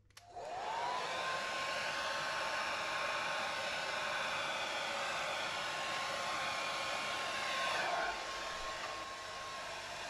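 A hair dryer on low speed blows white acrylic paint across a pour painting, a steady, continuous whir with a faint whine, close and constant for the whole stretch before dropping slightly at the end.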